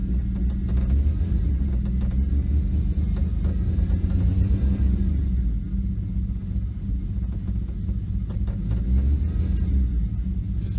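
A 1986 Dodge Ram D100 pickup with a slant-six engine, not fully warmed up, driving on a snowy day, with a steady, loud, close cabin rumble of engine and road noise throughout.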